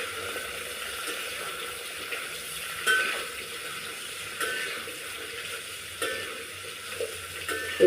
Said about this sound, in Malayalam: എണ്ണയിൽ കിടന്ന് വാടി നല്ലോണം വേകട്ടെ